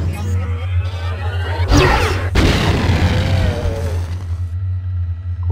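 An explosion in the System Shock 2 video game, heard as a loud broadband burst with a sharp crash, then a rumbling tail that decays over a few seconds above a steady low engine hum.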